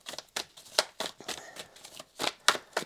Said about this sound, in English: I'm going to give that a little bit more of a shuffle